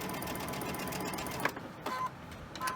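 A sewing machine runs steadily, stitching quilt fabric in an autumn leaf quilt block, with a continuous mechanical whir and a brief pause near the end before it resumes.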